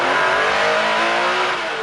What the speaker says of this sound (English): A lovely sound from that Carrera RSR.